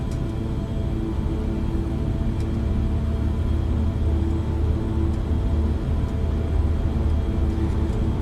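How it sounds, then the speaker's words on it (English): A simulated King Air turboprop rolls into a short field takeoff in X-Plane 12, its engines giving a steady, loud propeller drone and rumble that holds even throughout. "this is a short field takeoff, let's go"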